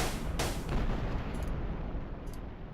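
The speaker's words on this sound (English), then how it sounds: "Lots of explosions." Explosions in a mecha video game thud and pop in a couple of quick, fairly distant bursts early on, then fade into a low, steady rumble of battle noise.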